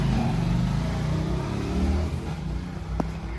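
A car engine runs steadily nearby, a loud continuous drone with a slight rise in revs, and no voices over it.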